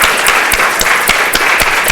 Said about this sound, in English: we should do a big round of applause.